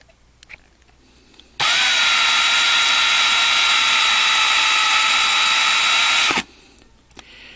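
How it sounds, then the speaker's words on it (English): A small power drill bores out a rivet on a 1/64 die-cast model car, a 2019 Kurt Busch #1 Monster Energy custom. One loud, steady, high-pitched whine holds for about five seconds, close up, then cuts off. "just drill out this one rivet"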